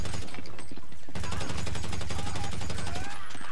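Rapid automatic gunfire in a GTA 5 zombies mod video game: a short burst, a brief gap, then a long, steady, loud volley of evenly spaced shots, up close, with no talking.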